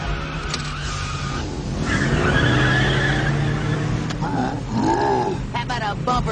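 A 200-horsepower car strains hard in reverse, engine droning loud and steady while tires skid and squeal against the pull, with voices shouting over the noise throughout.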